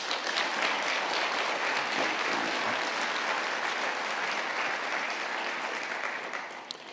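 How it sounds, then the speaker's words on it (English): A conference plenary audience claps in a sustained round of applause for several seconds, dense and even, easing off slightly toward the end. "I see that the majority have clapped their hands in endorsement"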